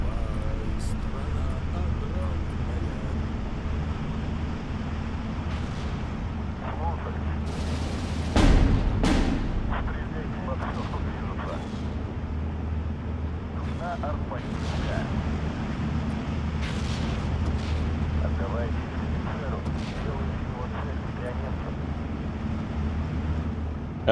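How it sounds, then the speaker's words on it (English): Distant battlefield rumble of explosions and tank cannon fire in the WWII strategy game Steel Division 2, a dense low roar with scattered sharp blasts, one louder burst near the middle. "I can hear like explosions and tanks firing and stuff like that"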